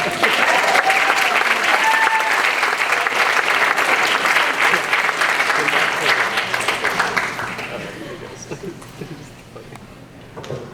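Audience applause at a Georgetown University Asian heritage graduation ceremony, loud sustained clapping from a large crowd that fades out over the last few seconds, with faint voices underneath.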